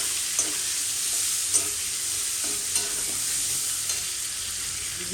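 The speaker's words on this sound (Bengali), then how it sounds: "তো এটাকে আমি ভালো মতো ফ্রাই করে নেবো পেঁয়াজটাকে।" Chopped onions fry steadily in hot oil in a pan for a Bengali potol chingri dish, a continuous close sizzle broken by four or five soft scraping stirs at roughly even intervals, with no voices.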